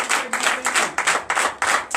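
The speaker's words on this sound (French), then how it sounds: "Je vous demande d'applaudir très fort." A church congregation at a Sunday service in Benin claps in rhythmic bursts, about six loud pulses of many hands close by, with no talking.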